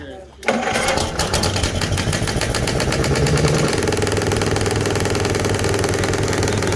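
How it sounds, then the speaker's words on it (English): A small two-cylinder pony motor used to start a big diesel engine cranks and catches after a brief pause, then runs loudly and steadily with a rough, rapid chugging drone. "Starts a little motor, a little two-cylinder motor. That's what starts the big engine."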